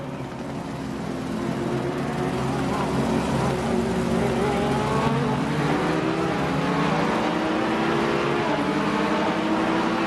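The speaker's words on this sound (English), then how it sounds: "So I just put my foot to the floor, sneak up behind everyone who's revving under the limit, and as soon as it goes green, I just get to take off." Race car engine accelerating hard off the starting grid at Zandvoort, a loud sustained high-pitched roar with rising harmonics and other cars audible around it, continuous for the whole stretch.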